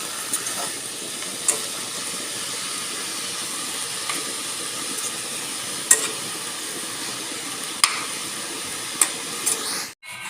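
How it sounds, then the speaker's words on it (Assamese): Leafy greens hiss steadily in a wok, with an occasional scrape of the spatula every second or two. "এনেকৈ লৰাই থাকিলে ভাজি থাকিলে শাকখিনি অলপমান হৈ যাবগৈ"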